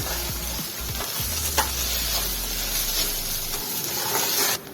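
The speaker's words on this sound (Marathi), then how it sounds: "भेंडी सारखी परतवत राहायची। तेल कमी टाकलेले म्हणून चिपकायला नको कढईला।" Okra being stir-fried in a wok with little oil for a masala bhindi, with a steady close sizzle and repeated scraping stirs throughout and no talking.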